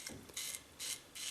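A Parker 22R double-edge safety razor gives off thin, tinny mechanical clicks and rasps in three short bursts, close and faint, with no voice present.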